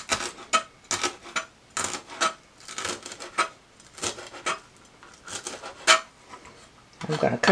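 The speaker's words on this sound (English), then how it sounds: "I'll just keep chopping until I get it very fine." A knife chops dill repeatedly against a cutting board, a quick, uneven series of crisp taps, close by.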